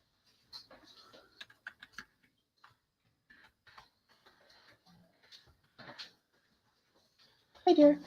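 Computer keyboard typed on in short, sparse bursts of light clicks, quiet and close by, with pauses between runs and a louder thump at the end.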